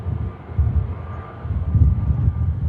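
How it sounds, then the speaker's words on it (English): A passing aircraft at Manchester Airport leaves wake turbulence behind it, heard as a low rumbling roar that swells and fades in uneven gusts, fairly loud and alone. "That's the wake from the aircraft."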